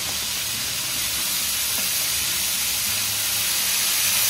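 Food fries in a pan with a dense, constant hiss and sizzle, close and even in level from start to finish.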